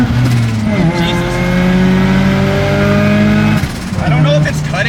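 A Mazda RX-7 racing hard with its engine revving in sustained, loud climbing tones that cut out abruptly near the end before picking back up, heard from inside the car.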